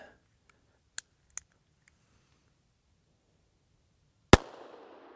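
A single sharp shot from a LifeCard pistol chambered in .22 WMR cracks near the end and fades in a short echo, after a couple of faint clicks in an otherwise quiet stretch.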